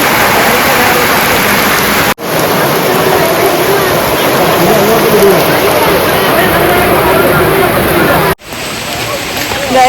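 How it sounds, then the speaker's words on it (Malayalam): Heavy rain pours near Meenmutty waterfalls, a loud, dense and steady hiss of falling water with no talk, broken by two brief cuts. "മഴയാണ്"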